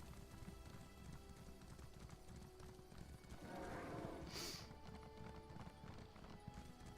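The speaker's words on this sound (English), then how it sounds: "Go, Frosty horse, go" A horse mount gallops in The Elder Scrolls Online, with steady rapid hoofbeats throughout under a faint game ambience, swelling slightly in the middle.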